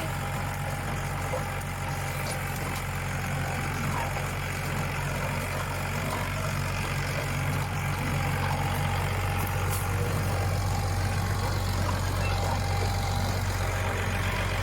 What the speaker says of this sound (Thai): ใช่ครับเครื่องยนต์ power star นะฮะ